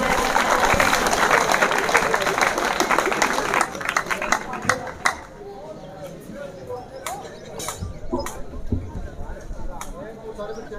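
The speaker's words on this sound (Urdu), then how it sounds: "بھرپور تالیوں کا ان کا استقبال کیجئے" An audience at a student farewell party applauds the head master, dense clapping for about four seconds before thinning into scattered claps and soft crowd murmur.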